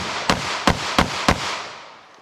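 Four sharp .380 ACP pistol shots firing full metal jacket rounds, evenly spaced about a third of a second apart, each a loud crack with a short ringing tail outdoors.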